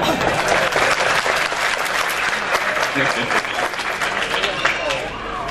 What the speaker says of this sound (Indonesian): Tepuk tangan untuk Gunung Agung.